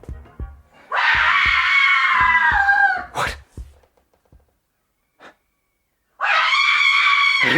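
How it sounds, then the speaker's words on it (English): A woman screams in two long, strained, high-pitched bursts, loud and close, separated by a short sharp yelp, a faint gasp and near silence, with a few heavy thuds at the start. "Did you hear a scream?"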